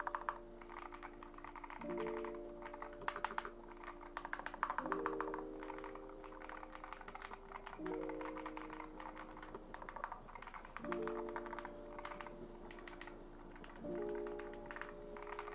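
Steady keyboard typing clicks close by on a MADLIONS MAD 68HE magnetic-switch keyboard, brisk and continuous, with a faint recurring tonal sound in the background.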